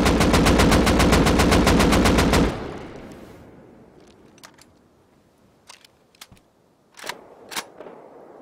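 Automatic rifle with a muzzle brake fired in the Rust video game, a loud rapid burst of evenly spaced shots lasting about two seconds, then fading into quiet ambience with a few sharp distant clicks or shots.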